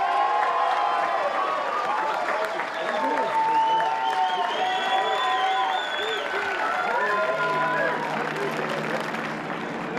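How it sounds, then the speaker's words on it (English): A crowd applauds and cheers loudly and steadily for Luke Searle and Paul Morris, outright winners of the 2017 Hi-Tec Oils Bathurst 6-Hour race, with voices mixed into the clapping. "Save the applause."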